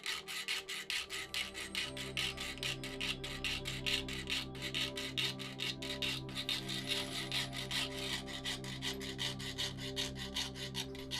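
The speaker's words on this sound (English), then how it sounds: "I moved on to cutting away some of the excess with a junior hacksaw." A junior hacksaw cuts through brass in quick, steady back-and-forth strokes, close and rhythmic, each stroke a bright rasping scrape repeated many times without pause.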